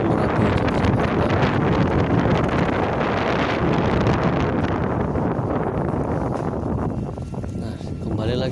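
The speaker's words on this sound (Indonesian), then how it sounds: "kembali lagi angin bertiup kencang" Strong wind gusting at the crater rim of the Merapi volcano lava dome, roaring and buffeting loudly against the microphone in a dense, continuous rush that eases slightly near the end.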